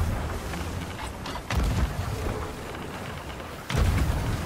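Cannon blasts in a fast-paced video game, two or three booming low thuds at irregular intervals over a continuous rumbling background, fairly close and loud.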